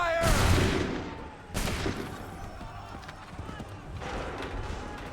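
Volleys of musket fire crack out in a battlefield scene from Assassin's Creed 3 Remastered, with a loud opening burst, a second volley about a second later and a further ragged round near the end, over a noisy background.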